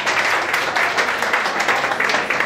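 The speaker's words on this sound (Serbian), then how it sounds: "Molim vas veliki aplauz za ovog mladog momka" A crowd at a pigeon-fanciers' association awards ceremony applauds a young award recipient, steady dense clapping throughout, loud and continuous, with no voices over it.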